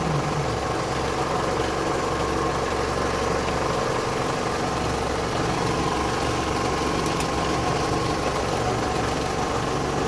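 A warm Toyota car engine idles with a steady, unbroken low drone and faint vibration, alone without any talking.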